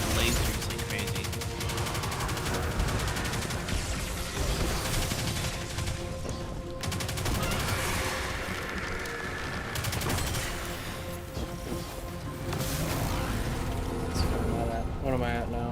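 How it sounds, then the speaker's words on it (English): Rapid submachine gun fire from a laser-spitting SMG in the sci-fi shooter Destiny 2, a dense continuous rattle of shots running the whole stretch with game effects layered underneath, no voices. "This SMG is wild."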